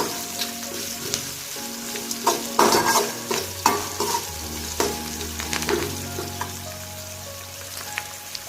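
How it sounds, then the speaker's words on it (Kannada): Rice roasting with a little salt in a hot pan crackles and sizzles constantly as a spoon stirs and scrapes it in repeated strokes, close and busy with no talking. "ಉಪ್ಪು ಹಾಕಿ ಚೆನ್ನಾಗಿ ರೋಸ್ಟ್ ಮಾಡೋದು"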